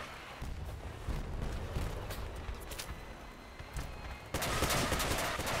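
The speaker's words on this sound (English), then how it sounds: "Oh, you want to shoot my missiles? There you go." Missile swarm launching in a video game, a dense rolling barrage of overlapping blasts that swells suddenly louder near the end.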